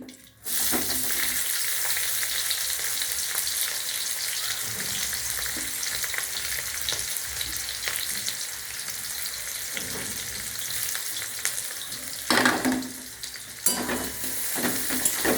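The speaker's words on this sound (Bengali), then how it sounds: "এবারে এখানে দেব পেঁয়াজ কুচি" Chopped onion fries in ghee in a pan, giving a loud, steady sizzle that runs throughout, with a few spoon-and-pan scrapes of stirring near the end.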